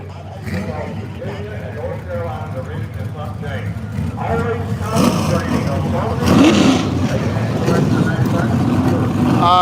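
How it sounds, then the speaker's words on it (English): Pace car at Caraway Speedway circling the track during a Grand National Super Series race, its engine revving and swelling louder as it passes, heard under continuous commentary. "And here is pace car number 2."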